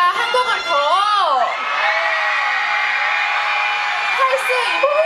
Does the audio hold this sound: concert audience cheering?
yes